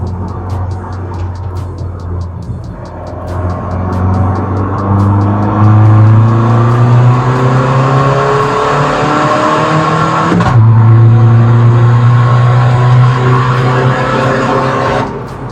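A tuned Skoda Fabia, built up from 90 to 250 horsepower with software and modifications, revs hard inside a tunnel, its engine climbing in repeated loud sweeps that echo off the walls, with a sharp shift or lift partway through and no talking.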